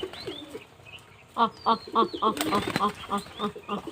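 A flock of pigeons flaps its wings in quick rhythmic bursts, with a few soft calls and chirps mixed in.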